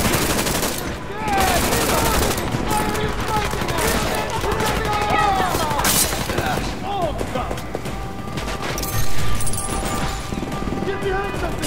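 Rapid bursts of automatic gunfire and heavy shooting in a Deus Ex: Mankind Divided firefight, dense and loud throughout, mixed with game music and shouted voices.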